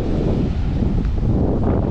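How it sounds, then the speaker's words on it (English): Strong wind buffeting a microphone outdoors on a blustery coastal day at Point Brown near Smoky Bay, a loud continuous low rumble with gusty swells, no talk. "it's really windy today"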